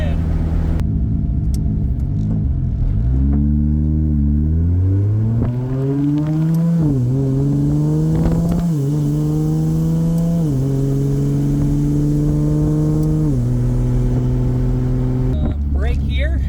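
A Nissan S14 fitted with a 2JZ engine and 8HP70 automatic transmission pulls away and accelerates, its engine note climbing in steady steps through several upshifts before easing off, heard loud from inside the car.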